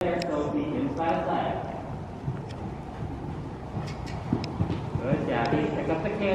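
Hoofbeats of a horse cantering in a show-jumping arena, rhythmic thuds running steadily through the clip beneath a trainer's spoken instructions and background noise.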